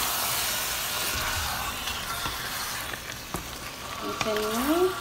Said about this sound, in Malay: Kita goreng bahan-bahan yang kita tumis tadi. Lepas itu kita masukkan daging.